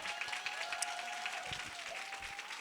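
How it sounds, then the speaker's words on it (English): Audience applause for a discussion panel at a community event, a steady dense wash of clapping from a crowd that holds evenly throughout, with a faint tone running underneath. "y'all give a round of applause to this amazing panel"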